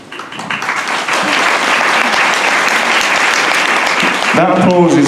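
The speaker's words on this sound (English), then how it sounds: "That applause is for you." Loud, building applause from a convention panel audience, swelling within the first second and holding steady, with a voice speaking over it near the end.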